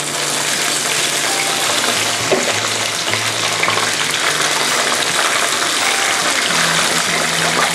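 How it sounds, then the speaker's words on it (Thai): Pounded herbs frying in hot oil in a pan after turmeric-fried mullet, a dense, loud, continuous sizzle that roars evenly close by with occasional stirring, no voices. "เราถึงจะมาทอดตัวของสมุนไพรตรงนี้ค่ะ"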